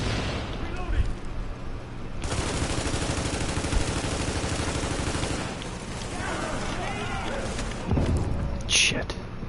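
TAC ACR rifle fire in The Division, rapid automatic shots in dense, loud bursts over several seconds, with a spoken voice and game noise around them.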